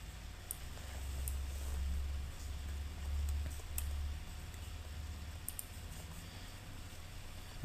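A computer mouse gives a few faint, sharp clicks, spaced irregularly over a quiet, low background hum in a desk setting.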